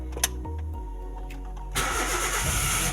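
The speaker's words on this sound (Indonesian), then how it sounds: "sekarang kita coba starter" A car fitted with an Android head unit being started with the starter: some quiet clicks, then the engine catches abruptly and settles into a loud, close, steady idle.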